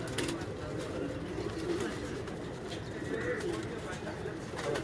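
Pigeons coo softly on a rooftop loft in Lahore, low repeated calls blending into a steady murmur, with someone talking over them.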